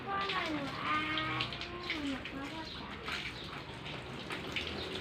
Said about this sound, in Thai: ฉีดล้างพรมค่ะพรมมีแต่ฝุ่น